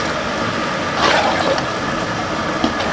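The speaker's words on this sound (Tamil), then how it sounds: "புளித்தண்ணி ஊற்றிடலாம்." Tamarind water poured into a cooking pot of vegetables and masala, a steady watery splash and trickle that swells briefly in the middle and continues softly, with no talking.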